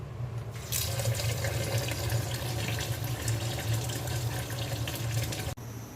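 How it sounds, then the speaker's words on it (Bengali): Mung dal being washed for khichuri under a running kitchen tap, a steady close rush of water splashing into a bowl in the sink, cutting off abruptly near the end. "আর ডালটা ধুয়ে নিব।"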